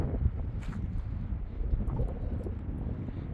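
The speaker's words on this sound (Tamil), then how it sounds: "காற்று சரியான காற்றுங்க." Strong wind buffeting the microphone at about 12,000 feet in a Himalayan village, a continuous low rumbling roar with gusty surges, no voices.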